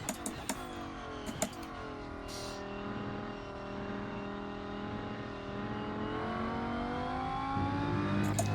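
An Audi race car engine in the racing game Rennsport hums and revs steadily, its pitch sliding down and back up in a long smooth sweep, with a few sharp clicks early on and a rising note near the end.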